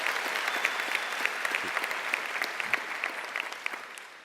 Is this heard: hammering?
no